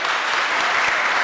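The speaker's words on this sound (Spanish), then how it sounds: "Aplauso para la hermana." A short burst of audience clapping at a religious debate gathering, even and moderately loud, with no one speaking over it.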